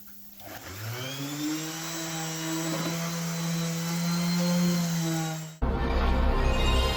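A power sander whines steadily on blue board during a Nissan car restoration, running up to a sustained droning pitch for several seconds before cutting out into a harsher, broadband grinding noise.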